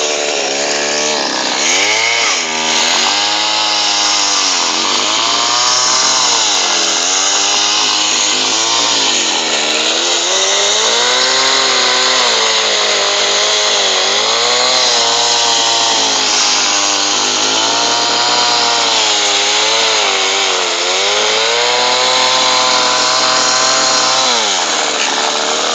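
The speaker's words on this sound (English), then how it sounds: "chainsaw. Go ahead and cut." A Mac chainsaw runs loud and close for the whole stretch, its engine revving up and bogging down repeatedly as it bites through wood.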